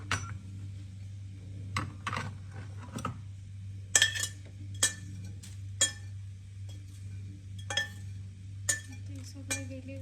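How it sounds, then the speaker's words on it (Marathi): Roasted puffed rice and peanuts stirred together in a pan, with light scraping and sporadic clinks of a utensil against the metal over a steady low hum. "याच्यामध्ये ॲड करूया ज्या भाजून घेतलेल्या होत्या लाहे आणि शेंगदाणे"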